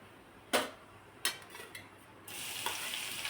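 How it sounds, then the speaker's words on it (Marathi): Crushed garlic and cumin seeds dropped into hot oil, two sharp sizzle bursts from the additions, then a steady, bright frying hiss that continues at close range. "तेल गरम झालं यामध्ये अर्धा चमच जिरं टाकायचं आहे हा ठेचून घेतलेला लसूण टाकायचा त्यामध्ये"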